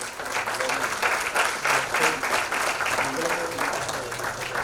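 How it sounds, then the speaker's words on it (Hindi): A crowd at an Indian award ceremony for nursing and paramedical institutes applauds to welcome a guest, dense sustained clapping lasting throughout, loud and close. "आप सबकी जोरदार तालियों के साथ"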